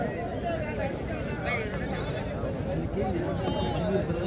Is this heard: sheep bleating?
yes